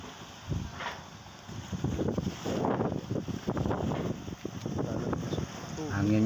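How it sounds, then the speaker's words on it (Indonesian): Strong wind gusting at a seaside fishing pier at Tanjung Luar, East Lombok, with parked fishing boats nearby, rumbling steadily in the microphone throughout while people talk over it. "Anginnya kenceng coy."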